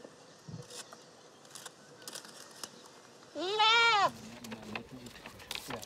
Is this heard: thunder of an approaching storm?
no